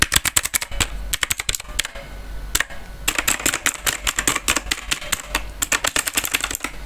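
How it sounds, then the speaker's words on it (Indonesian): Logitech MK275 membrane keyboard keys pressed in quick bursts of clicky taps, close and fairly loud, with a short pause before a faster run of typing. "Ini suaranya kalau misalnya itu tekan-tekan"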